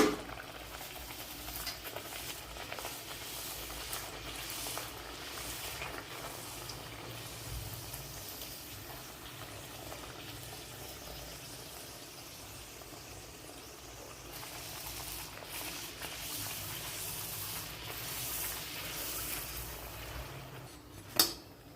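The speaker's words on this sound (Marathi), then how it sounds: "अशा एक एक पुऱ्या तळून घ्यायच्या." Masala palak puris deep-frying in hot oil, a steady bubbling sizzle that continues for the whole stretch, moderately close, with occasional soft stirring and one sharp clink near the end.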